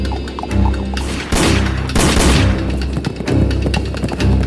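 Gunfire rains down on a horse-drawn wagon in a loud, chaotic barrage of booms, thuds and crashing impacts, with heavy bursts around the middle and hoofbeats rumbling underneath.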